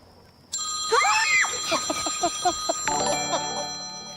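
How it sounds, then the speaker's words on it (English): A phone rings with bright, sustained electronic bell tones that start abruptly and persist throughout, while voices speak over them in the middle and the ringing continues steadily to the end. "if you listen real close, you might be able to hear that phone ringing"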